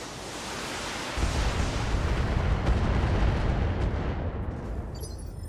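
Heavy weapons fire at a Firestarter Omni mech in BattleTech, a loud rumbling blast that swells into a broad roaring burst and slowly fades over several seconds.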